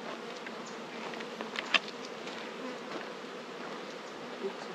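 Honey bees buzz steadily around a hive. Their dense, continuous drone stays fairly close and even throughout, with no talk.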